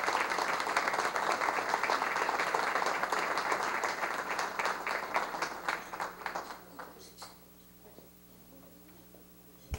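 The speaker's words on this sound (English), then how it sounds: "let's give these athletes a round of applause and congratulations" Audience at a school board meeting gives a round of applause for student wrestlers, dense steady clapping that thins into scattered individual claps and fades to quiet.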